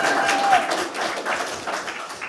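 Live podcast audience at a health conference in Berlin clapping, a steady patter of scattered hand claps from a crowd at moderate volume, with a few voices mixed in.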